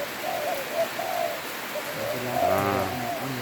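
Spotted doves coo in the rain, giving soft repeated low coos over a steady hiss of falling rain, with a louder, fuller coo near the end.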